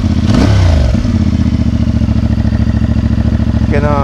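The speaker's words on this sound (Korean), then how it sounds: "트로트를 조금만 해볼게요." A CFMOTO 450MT motorcycle engine is blipped with the throttle, rising in pitch with a brief rev before dropping back to a loud, steady, pulsing idle, and a voice briefly speaks over it near the end.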